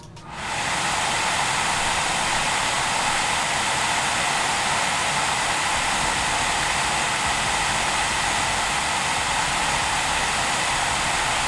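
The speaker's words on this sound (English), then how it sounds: "It does get very loud when the blower is turned all the way up." The blower cooler fan of an AMD Radeon RX Vega 56 graphics card spins up within a fraction of a second to full speed, then holds a loud, steady, broadband whooshing roar like a hair dryer for over ten seconds, with no voice.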